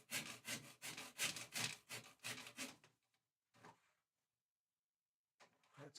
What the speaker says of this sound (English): then we're going to use the scraper and get it nice and smooth